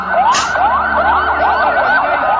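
Loud ambulance siren wailing close by in rapid, repeating up-and-down sweeps, continuous and steady throughout with no voices.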